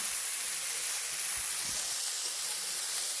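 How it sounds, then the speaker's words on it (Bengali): Chickpeas for ghugni are stirred and fried in a pan, giving a steady, even hiss and sizzle with a few soft scraping knocks, close and alone throughout. "দেখুন আমরা ছোলাটাকে খুব ভালো করে নেড়ে নেড়ে কষিয়ে নিচ্ছি"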